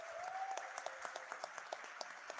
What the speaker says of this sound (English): Give Imagine Waterworks a round of applause.